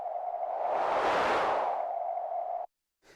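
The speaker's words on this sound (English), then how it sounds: "a peaking noise mode or band pass, and the key that I press will actually change the range of frequencies that I'm band passing at" A Korg minilogue xd synthesizer in band-pass noise oscillator mode emits a sustained, peaking hiss that swells and fades for a few seconds before cutting off abruptly, then a faint restart.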